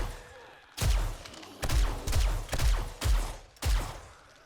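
Loud bursts of weapon fire in the survival game 7 Days to Die, with five or six heavy blasts a beat apart, each with a booming low-end thump and ringing tail, over a constant rumble.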